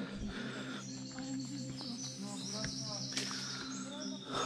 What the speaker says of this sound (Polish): Słychać tylko śpiew ptaków.